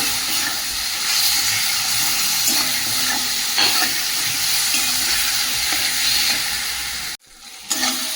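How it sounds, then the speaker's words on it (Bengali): Cut capsicum frying with spices in a home kitchen pan, a steady close sizzle and hiss with occasional stirring scrapes, dropping briefly near the end before resuming. "এবার এখানে একটা ক্যাপসিকাম কেটে রেখেছিলাম, ওটা দিয়ে দেবো। ভালো করে মশলার সঙ্গে ভেজে নেব।"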